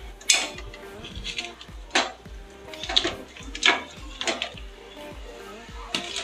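Mutton pieces tumbling into a pan of spiced masala and being stirred, with repeated close metal scrapes and clanks of a spoon against the pan at an uneven rhythm.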